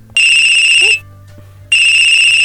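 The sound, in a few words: waltz-like phone ringtone in a video game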